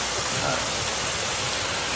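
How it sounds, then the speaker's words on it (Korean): Sojeongbang waterfall on Jeju Island pours steadily, a dense, loud broadband rush of falling water that stays even and unbroken throughout, with no voices. "그 소정방 폭포의 폭포 모습을 볼 수가 있습니다"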